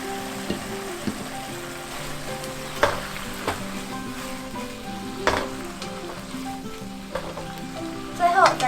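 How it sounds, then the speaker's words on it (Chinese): King oyster mushrooms and large chilies are stir-fried over high heat, giving a steady close sizzle with occasional spatula knocks and a louder scraping flurry at the end. "再将定型好的杏鲍菇以及大辣椒一起下锅大火快炒。"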